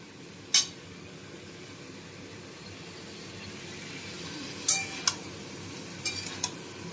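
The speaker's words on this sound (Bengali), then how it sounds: "এগুলো সব ভাজা ভাজা করে নেবো" Soft sizzling of boiled vegetables and tomato frying in a pan under a quiet background, with a few sharp scraping clicks of a utensil stirring, spaced irregularly.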